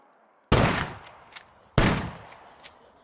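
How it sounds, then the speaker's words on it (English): Two loud shotgun blasts from the video game SCUM, about a second and a quarter apart, each a sharp crack with a ringing tail and faint mechanical clicks after it, with no voices. "So I didn't cycle the shotgun the last time I shot."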